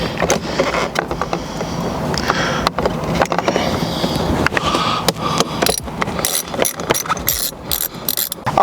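A hand ratchet removes the side bolts from a car steering wheel during a Sparco steering wheel install with an NRG quick release, giving repeated close clicking bursts with short pauses between strokes.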